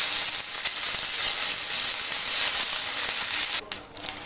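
Dried chillies, black cumin and ginger paste sizzle in hot oil in a wok, a loud, steady, close hiss that drops off abruptly near the end.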